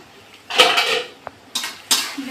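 A metal lid on a cooking pot clanks and scrapes in a few sharp, close bursts, with short pauses between handlings and no talking.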